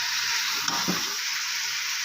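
Beef sizzling in a pan with garlic and ginger paste for nihari, a steady hiss of frying with a brief stir in the middle.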